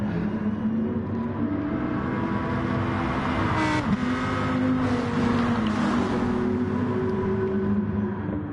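Lamborghini race car in a racing video game, its engine droning steadily and loudly with shifting pitch as it accelerates and holds speed, no voices present.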